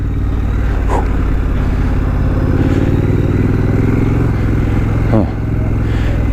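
A 2019 Triumph Scrambler motorcycle rides along a street, its engine a steady, loud drone throughout with a brief gear change or rev shift near the end.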